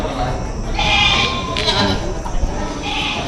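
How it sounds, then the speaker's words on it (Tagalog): Goats bleat repeatedly amid a crowded livestock market in Padre Garcia, their calls rising over a steady hum of background chatter and market noise. "Daming kambing."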